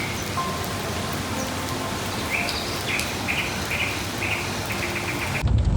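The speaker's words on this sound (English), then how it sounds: "Continuously raining now. Actually, it's heavily raining." Heavy rain falling steadily in Langkawi, a dense even hiss of drops on surfaces with faint chirping insects and birds in the background and a louder thump at the very end.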